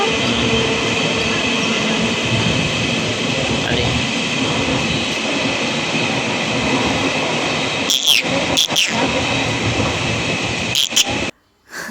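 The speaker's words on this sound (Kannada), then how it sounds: "ಈಗಂದ್ರೆ ಗೊತ್ತಾಗುತ್ತೆ ನೋಡಿ ಗೊತ್ತಾಗ್ತಿದೆಯಲ್ಲ ಪಾಸ್ ಆಗ್ತಿದೆ ಟ್ರೈನ್" A train passes close by in a steady, loud rumble of rolling wheels and carriages, with a few sharp clicks near the end before the sound cuts off abruptly.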